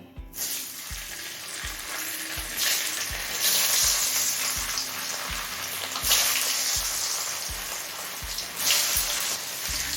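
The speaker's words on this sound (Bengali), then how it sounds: "তেলটা হাই ফ্লেমে গরম করে নিলাম এবার পনিরগুলো ভেজে নেব" Paneer pieces fry in oil heated on a high flame, a loud, dense sizzle heard up close with a steady run of regular low thumps beneath it and brief surges in the hiss.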